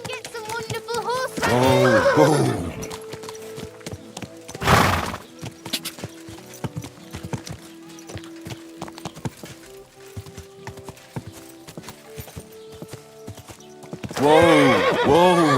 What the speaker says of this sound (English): Come and get some wonderful horses.